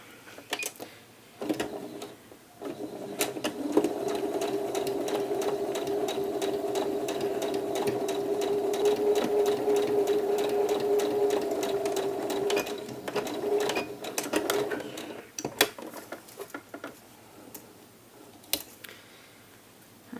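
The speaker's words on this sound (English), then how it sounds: "I'll be sewing approximately 1/8 of an inch away using that longer stitch length." A sewing machine stitches sleeve slit binding on a blouse at a long stitch length, a fast mechanical whirring run in the middle with shorter bursts and clicks before and after, close up and without voices.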